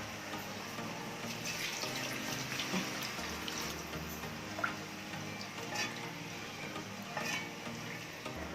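Water pours steadily into a pot holding two glasses of rice, about three and a half glasses in all, while cooking mushroom pulao; a continuous close splashing rush runs throughout with no talk.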